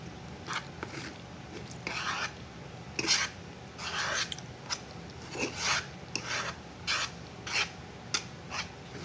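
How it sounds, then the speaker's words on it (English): A utensil scrapes food out of a bowl at a Sunday dinner, making a series of close, rasping scrapes in irregular strokes, some short and some drawn out, with quiet gaps between them. "I am scraping this out of this bowl"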